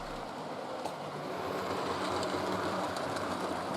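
Model trains run past one another on a finely detailed model railway layout, giving a continuous steady rumble and clatter of wheels on track that fills the whole stretch, with no talking.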